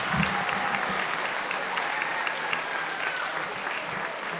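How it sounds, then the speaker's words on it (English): Steady applause from an audience at a senior high honor band event, sustained and fairly loud for several seconds, with faint voices mixed in beneath the clapping. "Let's give him another great round of applause."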